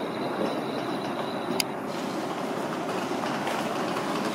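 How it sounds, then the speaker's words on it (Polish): A local train runs on rails at a station near Mount Fuji in Japan, a steady broadband rumble with a faint high squeal and one brief click, continuous and fairly close throughout. "Lokalna kolejka."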